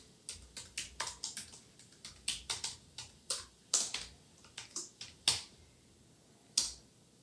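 An admin password being typed on a computer keyboard: about twenty quiet, crisp keystrokes in an uneven rhythm with short pauses, close to the mic and with no talking.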